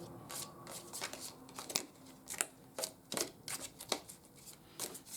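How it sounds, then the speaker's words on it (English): Crisp bursts of a round tarot deck being shuffled, several quick riffles and snaps spaced irregularly, fairly quiet and close with no talking. "So let me give it a good shuffle, another good shuffle here."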